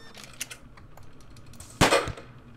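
Pixel-game gunshots in Gunpoint, a loud sharp burst near the end after light tapping clicks, short and punchy with no voices.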